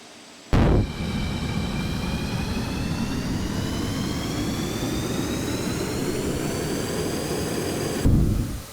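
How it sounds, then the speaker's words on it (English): An engine in the Stormworks game fires up abruptly with a loud, steady jet-like roar and heavy low rumble, holds for about seven and a half seconds, then cuts off just as suddenly, with no talk over it. "Why does the engine keep firing up and stopping?"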